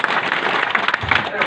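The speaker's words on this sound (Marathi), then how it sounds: "टाळ्या तरी वाजवा" A crowd at an outdoor political speech by a member of parliament claps in a brief, dense burst of applause, with voices mixed in.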